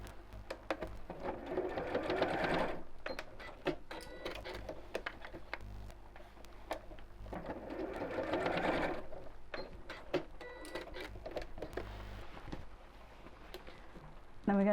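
Sewing machine stitching a simple cotton tote bag with a flap, a fast, even mechanical whirr running in bursts that stop and restart, close and moderately loud, with brief pauses and small handling clicks between runs.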